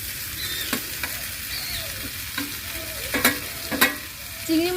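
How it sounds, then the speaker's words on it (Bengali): Fried prawns stirred into a jackfruit and potato masala in a pan: a continuous sizzle broken by several scraping stirs of the spatula, close and clear with no talk. "এবার চিংড়ি মাছ ভাজাগুলো দিয়ে দেব।"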